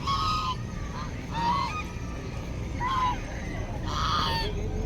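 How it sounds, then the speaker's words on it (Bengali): A flock of waterfowl at a park pond gives four loud, nasal honking bursts spaced a second or so apart over a steady outdoor background. "কেমন ডাকছে দেখো হাঁসগুলো কেমন ডাকছে"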